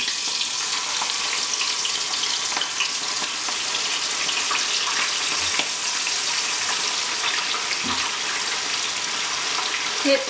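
Oil heated for frying chicken gives a steady, dense crackling hiss that stays loud and even throughout, with a few faint clinks and no talking.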